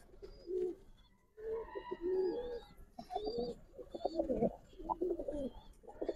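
Gribaz pigeons at a pigeon farm in Old Dhaka coo in repeated low, throaty phrases close by, with a few higher chirps from other birds mixed in.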